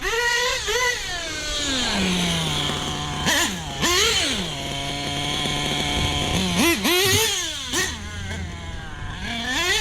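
Small nitro RC buggy engine, recently fixed, chugging at a steady idle with several sharp revving bursts in between, loud and close with a buzzy, harmonic-rich tone.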